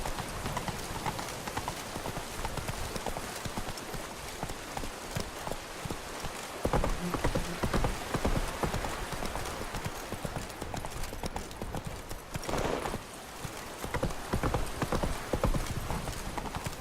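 Roach, the horse from The Witcher 3, gallops through rain with steady, loud clip-clop hoofbeats, a brief whinny, and a constant wash of rainfall underneath the hooves.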